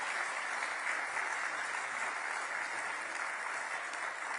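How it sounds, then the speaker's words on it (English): A conference audience gives sustained applause, a dense even wash of clapping that holds steady for several seconds with no voices. "Give it applause."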